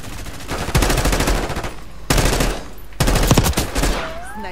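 Automatic gunfire from Call of Duty Black Ops 6 multiplayer rattles in three loud, rapid bursts of shots with short gaps between, ending with a faint whining tone.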